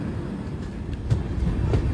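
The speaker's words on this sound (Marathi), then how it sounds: "मडुऱ्यावरनं आपली ट्रेन निघाली" A Konkan Railway train pulls out of Madure station, the last stop in Maharashtra before Goa. A steady, low, rumbling roll with soft clanks continues throughout the clip, and no voices are heard.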